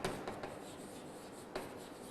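Chalk or marker writing on a board during a physics lesson on series circuits, faint scratchy strokes with two sharper taps, quiet and without talk.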